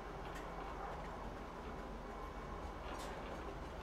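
A train in the video game Star Citizen runs along, a continuous low rumble with faint rhythmic ticking and clacking, fairly quiet and steady.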